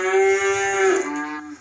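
Cattle on a farm let out a single long, loud moo up close, lasting well over a second before trailing off, with no talking.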